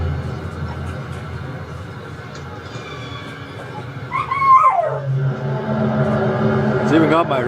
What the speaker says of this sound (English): It's even got my dogs barking.